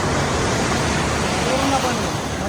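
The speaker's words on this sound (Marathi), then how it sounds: "आता मोठ्या लाटा येत चाललेल्या आहेत" Big waves break on Kashid Beach near Alibag, a loud, continuous roaring wash of surf that fills the short stretch.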